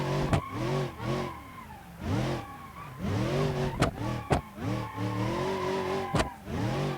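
A car drifting in the game BeamNG.drive, its engine revving up and down in repeated surges while tires squeal and skid, loud and close, with several sharp knocks.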